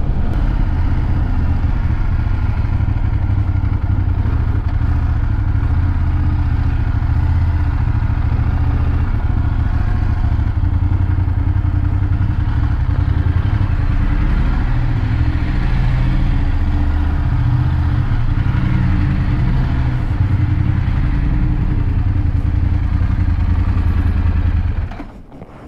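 A new motorcycle holds a steady 51 on cruise control, its engine a continuous close drone with road and wind rumble throughout, no speech, fading slightly at the very end.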